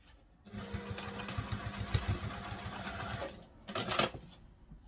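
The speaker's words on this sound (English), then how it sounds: "you want to pop them across and sew them with the seam allowance given in the pattern" A sewing machine stitches bag gussets at the seam allowance in a steady mechanical whirring run that pauses briefly near the end before a short final burst, close and loud, with no voices.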